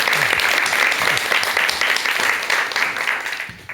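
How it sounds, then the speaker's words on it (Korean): A studio audience gives a brisk, even round of applause to open a lecture, steady clapping throughout that tapers off near the end. "그럼 큰 박수와 함께 오늘 강의 청해 듣도록 하겠습니다"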